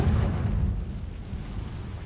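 A Confringo spell explodes in Hogwarts Legacy on PS5, producing a loud, deep, rumbling blast that starts strong and then rolls on steadily for a couple of seconds.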